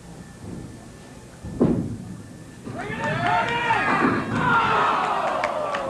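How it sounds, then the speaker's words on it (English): A crowd at a 1985 televised bowling match breaks into loud cheering and shouts after a thudding impact. The noise swells and carries on steadily to the end. "Nice hand from the crowd."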